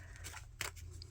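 Scissors snip through the excess flap of a paper envelope during a Christmas house craft, two quick close cuts with the second sharper and louder, alone and fairly quiet.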